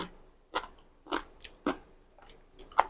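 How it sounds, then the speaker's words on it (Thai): Crunchy bites into large squid tentacles wrapped in Thai rice noodles from a spicy tam sua salad: about five distinct, close chewing crunches spaced through a quiet background. "มากินกันค่ะ หนวดใหญ่ๆทุกคน"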